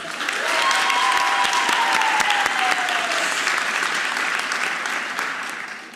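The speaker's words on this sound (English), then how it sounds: "one more round of applause" A speech-night audience gives loud, continuous applause for contestants and instructors gathered on stage, the clapping swelling in quickly, holding strong and easing slightly toward the end.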